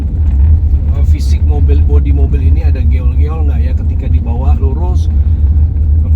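A car drives down a straight road on a test drive, with a steady low road and engine rumble running under continuous close speech.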